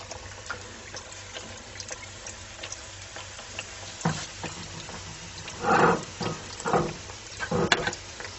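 Apple fritters dropped into hot oil give a fizzing, bubbling sizzle that swells in several bursts around the middle and end, over a steady low background hiss.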